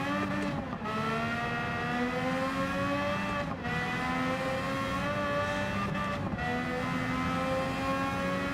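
A race car engine in a racing game drones at high speed with a steady, loud, harmonic whine that dips briefly at about three gear shifts before climbing back, running alone without talk.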